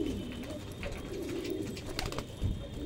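Pigeons being fed roti give soft, repeated coos nearby, with a few flutters and scuffles mixed into the steady murmur and no talking.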